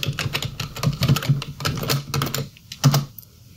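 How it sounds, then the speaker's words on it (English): Username and password typed on a computer keyboard: a quick run of crisp, irregular key clicks, close and clear, pausing briefly before a final cluster of taps. "Type your username"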